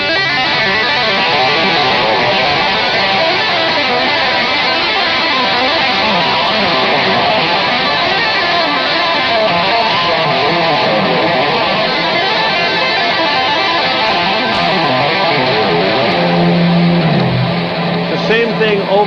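Loud, heavily distorted electric guitar plays simple repeated riffs that shift up and down the neck, forming a dense, continuous wall of sound that barely varies in level for the whole stretch.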